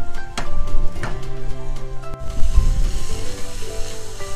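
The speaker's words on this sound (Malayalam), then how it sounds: "അതിലേക്ക് രണ്ട് ടേബിൾ സ്പൂൺ വെളിച്ചെണ്ണ ഒഴിച്ചു കൊടുത്തിട്ടുണ്ട് ഇനി നമുക്കിതിലേക്ക് രണ്ട് സവാള ചേർത്ത് കൊടുക്കാം" Finely chopped onions (two, salted) hit two tablespoons of hot coconut oil in a pan while making chicken-stuffed mulaku bajji, breaking into a steady, close sizzle over soft background music.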